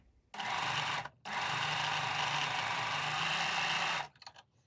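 A sewing machine stitches a seam down a fabric edge at a 1 centimetre allowance, running as a steady, close, loud whirr in two stretches with a brief stop after the first second.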